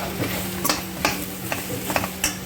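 Onion frying and being stirred in a pan for white chicken pulao, with a steady low sizzle and a few sharp scraping stirs, close and moderately loud with no talking.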